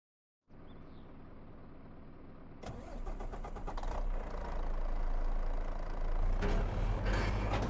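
In Farming Simulator 25, a vehicle engine cranks and catches partway through after a steady low hum, then runs with a rising, rumbling drone that stays loud and close to the end.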